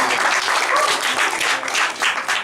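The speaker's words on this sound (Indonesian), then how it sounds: "Tepuk tangan juga toh." A crowd at a cultural gathering bursts into loud, close applause, dense clapping that swells and dips in waves over a couple of seconds.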